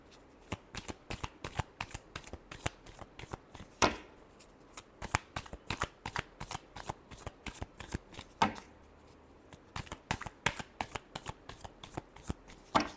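Tarot cards are shuffled close up, a quiet run of crisp riffling bursts and taps repeating in a steady rhythm with a few sharper slaps, and no voice.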